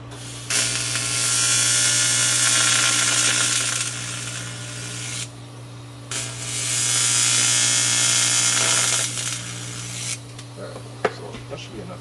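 A K20 RBC intake manifold flange is tack welded in two sustained bursts of harsh, crackling buzz, each about four to five seconds long, over a steady low hum, with a few small clicks and knocks afterwards.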